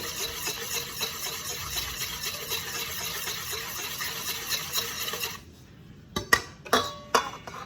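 Honey mixture being whisked by hand in a bowl for pizza dough, a rapid continuous clinking and scraping of metal against the bowl for about five seconds, followed by a few louder separate knocks and taps.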